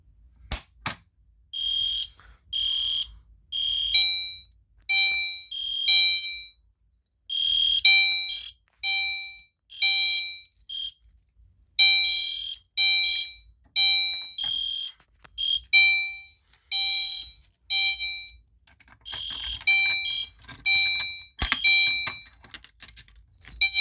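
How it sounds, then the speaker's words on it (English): A fire alarm sounds in repeated loud, shrill electronic bursts, pulsing on and off in a steady pattern with short gaps. "we're going to go ahead and pull the fire alarm and set off the medical alarm."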